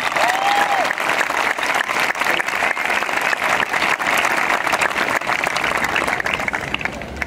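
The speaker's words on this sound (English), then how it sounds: "Please join me in thanking them with a round of applause." Sustained, dense applause from a graduation ceremony crowd at SHS, steady and loud across the whole stretch with no break.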